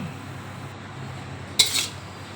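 Stir-fried snow peas and straw mushrooms are served from a pan onto a plate, with a single sharp metallic clink and a brief clatter of utensil against cookware over quiet room tone.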